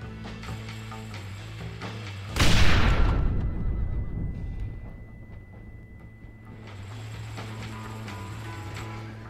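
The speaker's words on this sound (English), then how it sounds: "Gonna try to shoot him with the explosive rifle, like right next to him" A single explosive rifle shot in Red Dead Redemption fired right next to a target: a sudden heavy blast that rolls off slowly over a steady bed of game ambience, with no talking.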